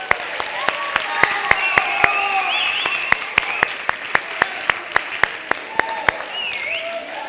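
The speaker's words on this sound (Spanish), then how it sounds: "Un aplauso para ellos, por favor." An audience applauds in a theatre at a book week opening event, with sustained clapping rising to scattered sharp claps in a steady rhythm and voices murmuring in the room.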